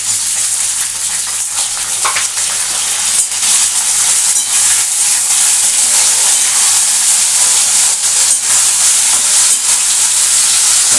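Capsicum frying in a pan for spicy Bengali masala begun bhaji, a steady close sizzle with soft stirring scrapes running unbroken and fairly loud throughout.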